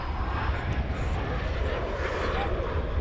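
Nippon Cargo Airways cargo plane at DFW Airport, a steady broad engine roar holding at a constant level throughout, with faint talk mixed in.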